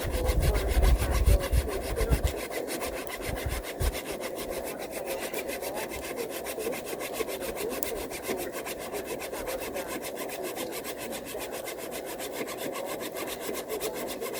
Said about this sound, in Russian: Тонкий узкий пропил.